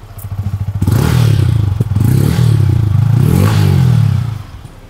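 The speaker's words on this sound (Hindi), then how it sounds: "नाउ थोड़ा सा रेव अप करते हैं और चेक करते हैं कैसा आवाज़ है।" Close up, a Yamaha MT15 motorcycle engine blips from a pulsing idle into two strong rev surges, pitch rising and falling with each throttle twist before settling back down.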